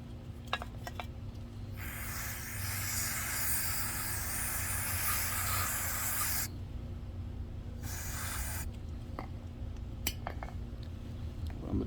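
Brake cleaner sprayed into the throttle body of a Chevrolet Cruze, Trax, Sonic or Encore: steady broadband hissing bursts, close and fairly loud, with a pause and a second shorter burst, amid a low engine hum.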